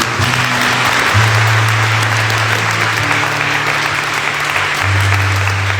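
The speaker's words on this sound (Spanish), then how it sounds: "Dele un fuerte aplauso" A church congregation applauding loudly and steadily for several seconds during a homily, with sustained low tones from an organ or keyboard underneath.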